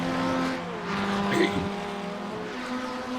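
Formula Ford race cars in a racing video game drone steadily with layered engine tones and a brief tire squeal midway, heard at moderate volume with faint commentary beneath.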